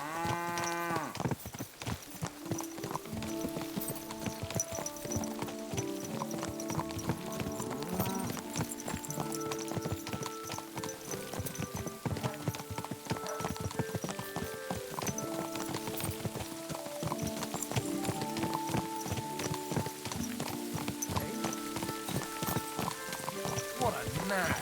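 Horse hooves clip-clop steadily in Kingdom Come Deliverance 2, a continuous rhythmic trot under game music, with voices speaking at times.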